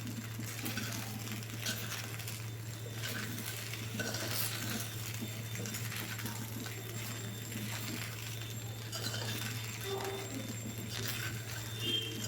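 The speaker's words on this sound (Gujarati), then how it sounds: "એની અંદર આપણે લીંબુનો રસ એડ કરીશું અને મિક્સ કરી લઈશું" Poha being stirred with lemon juice in a pan, a faint, continuous scraping and shuffling over a steady low hum, with no talk.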